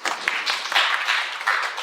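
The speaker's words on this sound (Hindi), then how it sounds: "सब ताली बजाकर उसका स्वागत करें।" A classroom of students claps to welcome a new girl transferring into the class, a dense, steady burst of many hands with no talk over it.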